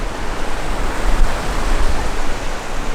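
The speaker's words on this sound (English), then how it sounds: "We're in this huge river ravine." A large river rushes through a huge ravine in the Colorado Rockies, a steady, dense roar of whitewater that stays loud and even throughout, with no voices over it.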